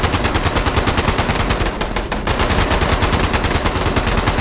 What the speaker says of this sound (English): Yeah, shoot the Tesla.